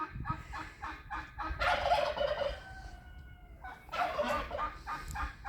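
Turkeys gobble in two loud rattling bursts among a flock of geese grazing outdoors, with quieter clucking and fowl calls between the bursts.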